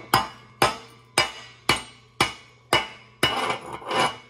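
A hammer knocks slag off a 7018 stick weld on a 1G test plate: six sharp, evenly spaced metallic strikes ring out close and loud, then a rougher burst of scraping, chipping clatter follows.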